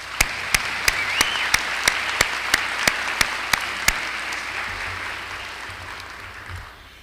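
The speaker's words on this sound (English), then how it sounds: "Let's give a round of applause for them." A crowd at an awards day ceremony claps in sustained applause, steady and fairly loud, with a series of sharp evenly spaced clicks punctuating the first half before fading out.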